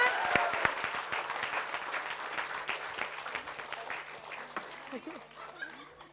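An audience applauds the first group, Delima, on a comedy variety show, a steady spread of clapping that slowly fades, with faint voices and brief music-like tones beneath it.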